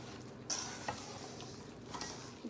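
Jeow bong, a Lao chili paste, being mixed with sugar and cow skin, giving a steady scraping and stirring sound with a few sharper knocks and clicks against the container, close up, with no talking.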